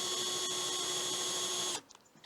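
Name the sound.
21V cordless drill driver drilling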